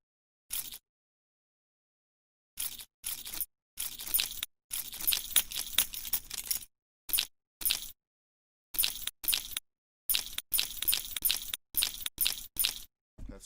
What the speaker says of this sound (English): I feel like I'm only scratching the surface of what keys could sound like.